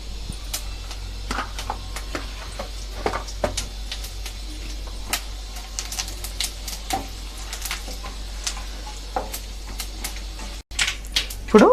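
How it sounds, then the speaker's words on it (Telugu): Scattered sharp pops and crackles of mustard seeds, cumin and dried red chillies spluttering in hot oil, irregular and moderately close, with a louder burst at the end. "ఇప్పుడు నూనె వేడైందండి ఆవాలు వేసుకుందాము జీలకర్ర ఎండుమిరపకాయలు"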